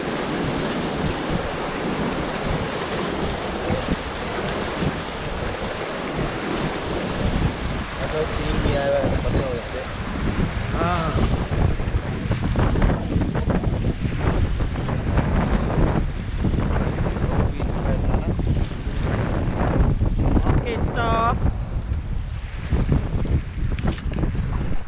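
A raft rides the Ganga river at Rishikesh: loud, continuous rushing water and wind buffeting, with splashes, paddle strokes and raised voices mixed into the roar throughout.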